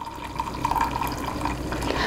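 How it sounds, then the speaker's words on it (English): Brewed coffee, with the grounds already separated out, is poured in a steady liquid stream that trickles and splashes for about two seconds. "that separates the grinds out from the actual coffee liquid, and then you get a nice"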